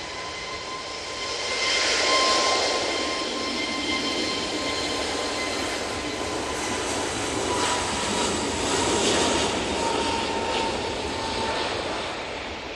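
An easyJet jet airliner takes off from Manchester Airport, a loud, broad rumbling roar with a faint whine that swells early and holds steady, close and continuous, with no voices.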